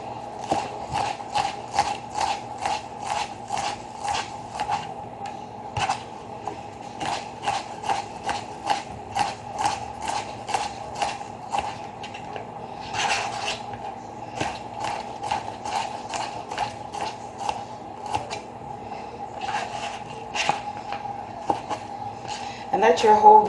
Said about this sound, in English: Now we're just going to slice this into julienne slices.